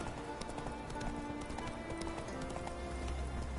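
Hooves of the horse Roach clip-clop in a quick, steady galloping rhythm during PS4 video game play, fairly quiet and even throughout.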